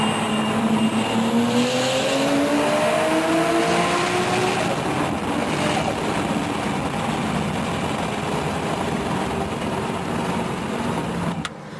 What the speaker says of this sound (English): this is my buddy racing the 350Z Turbo